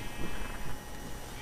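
Sheep in the Minecraft video game bleat a few times against a busy, noisy game background, with no talking.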